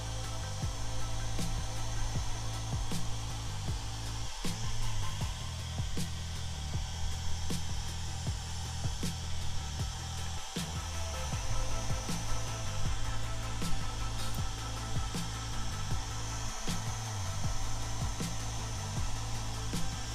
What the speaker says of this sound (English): we're gonna hit these real quick with a hairdryer